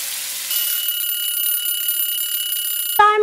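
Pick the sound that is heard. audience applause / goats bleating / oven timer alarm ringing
oven timer alarm ringing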